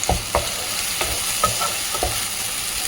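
Mutton liver fries in oil with a bright, crackling sizzle while a spoon stirs and knocks against the pan in repeated close, loud scrapes, no speech present.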